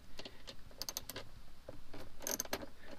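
A socket ratchet with an extension cracks 10 mm bolts loose on a Tesla Model 3 screen mount, giving quiet, close clicking and ratcheting ticks in short irregular bursts.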